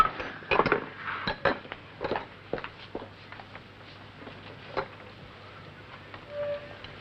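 Dishes and cutlery clink as a plate is set down in a domestic dining scene, a cluster of sharp knocks and chinks early on, then sparser light taps fading out.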